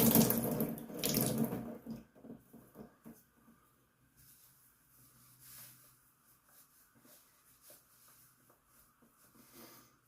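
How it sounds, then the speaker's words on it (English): A bathroom tap runs for rinsing after a shave, a loud gush of water for about two seconds followed by faint splashing and dripping as the face is rinsed, no talking. "Let me rinse off."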